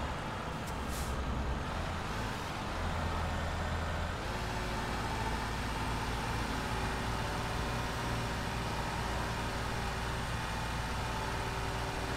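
Continuous road noise in Euro Truck Simulator 2, heard from a Marcopolo Ideale 760 coach: a steady engine drone and rumble of trucks and cars, with a short hiss near the start.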